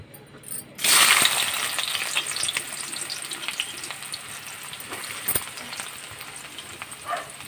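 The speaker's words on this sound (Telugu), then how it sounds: "ఇప్పుడు మనం ఉల్లిపాయలు వేసేసుకుందాం" Onions hit hot oil in a pan for fish curry, bursting into a loud close sizzle that settles into steady frying with occasional stirring clinks.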